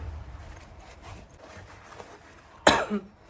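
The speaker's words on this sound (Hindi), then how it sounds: "मेरे को एक्चुअली खांसी हो रही है" A single sharp cough near the end, close and loud, after a stretch of quiet room noise.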